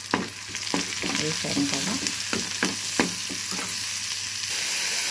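Onion and green chilli sizzle and fry in a pan with salt and turmeric, with steady close frying noise and spoon stirring scrapes throughout. A brief voice speaks near the end.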